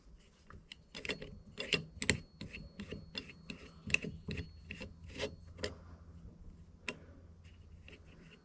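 Metal lever cap being fitted onto a Veritas low angle block plane and turned into place, a run of sharp close clicks, scrapes and rubbing knocks in uneven rhythm, fading to a few isolated taps toward the end.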